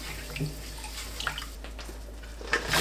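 Green chili peppers are rinsed in a bowl of water, giving soft sloshing and splashing with a few light drips and a brief louder splash near the end, fairly quiet and close.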